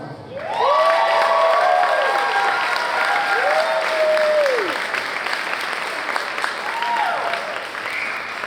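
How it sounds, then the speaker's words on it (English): Steady applause from a high school concert audience fills the space, with cheers and high whoops rising over the clapping throughout. "how about another huge round of applause"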